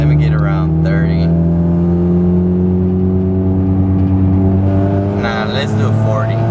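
A Chevrolet Cobalt SS fitted with a new downpipe holds a steady engine drone with strong low harmonics throughout, building gently during a second-gear pull, with a few voice-like bursts near the start and end.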